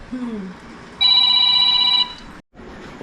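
An electronic phone ringtone chimes steadily for about a second, loud and close, preceded by brief voice sounds and followed by a short silence.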